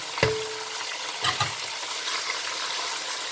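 Tomatoes go into a pan of ginger and garlic fried until red: a sharp splash at the start, then a steady loud sizzle with a few stirring scrapes, no voices.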